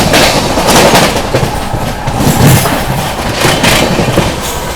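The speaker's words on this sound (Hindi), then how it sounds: "प्रयागराज हम सफर एक्सप्रेस ओवरटेकिंग प्रयागराज एक्सप्रेस" The Prayagraj–Anand Vihar Humsafar Express overtakes the Prayagraj Express at a station, a loud, continuous rumble and rhythmic clatter of wheels over rail joints, close by and with no talk.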